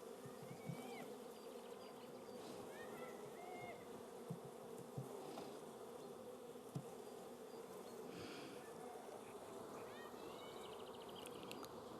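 Honey bees hum in a steady, dense drone from an opened beehive during a beekeeper's frame inspection, with faint bird chirps and small knocks in the background.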